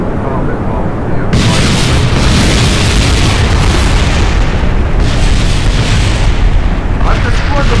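A massive explosion wrecks the runway in Kerbal Space Program, a loud sustained roaring blast that swells sharply after a brief lead-in and rumbles on with a second surge near the end.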